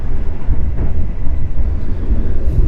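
The Turangga executive train runs at high speed, up to 120 km per hour, a loud steady low rumble and roar of the moving carriage with no gaps, heard from close by without talk.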